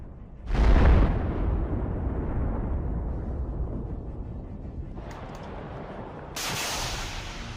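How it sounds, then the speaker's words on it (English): Kornet anti-tank missile launched at and striking a Bradley vehicle in combat: a single loud, close blast opens, followed by a long rumbling decay, with a sharper crack and a hiss rising near the end. "the Russians noticed the approaching Bradley and launched a Kornet missile."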